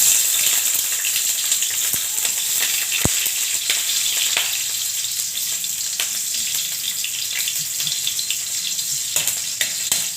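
Onions, called bombay, sautéing in a pan for bistek bisaya: a loud, steady sizzle of frying with occasional pops and spatters, close and continuous throughout, with no talk.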